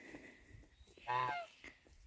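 A pilgrim gander among a small flock of pilgrim and brown Chinese geese gives a single short, fairly loud honk at a farm, standing out briefly against faint background sound.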